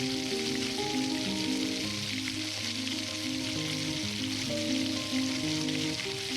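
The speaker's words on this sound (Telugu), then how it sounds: "అల్లం పేస్ట్ కొద్ది పచ్చివాసన పోయేదాకా ఫ్రై చేసుకుందాము." Ginger paste and chopped tomato fry in a pan for chicken biryani, giving a steady, even sizzle that continues throughout beneath gentle background music.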